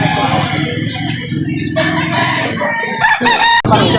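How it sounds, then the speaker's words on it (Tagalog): Chickens and roosters at a poultry seller's stall in Lipa City, Batangas, crowing and clucking close by in a dense, continuous flock din with a few sharper crows near the end. "Eto si ma'am, nagbebenta ng mga manok dito."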